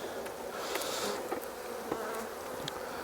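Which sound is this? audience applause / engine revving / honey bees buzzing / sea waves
honey bees buzzing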